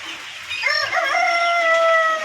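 A single rooster crows loudly and close by, one long drawn-out call rising and then holding steady.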